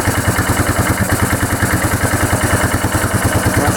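A Yamaha Kodiak ATV engine idles roughly, a loud, close, uneven putter with rapid pulsing beats and no voices.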